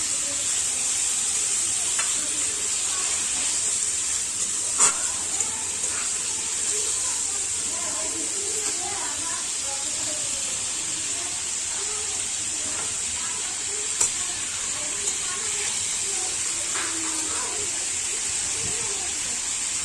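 Food fries in a pan and is stirred around, a continuous bright hiss with faint scraping and a couple of louder clinks, moderately close.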